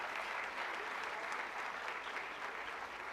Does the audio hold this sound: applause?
yes